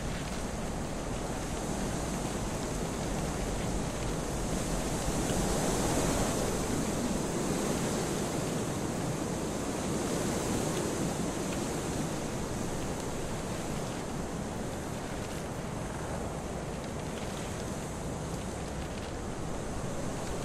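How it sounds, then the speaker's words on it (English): A stream and waterfall in the video game Kholat produce a continuous broad rushing roar of water, steady and fairly loud with gentle swells, and no voices over it. "Going to a waterfall that I can't get up."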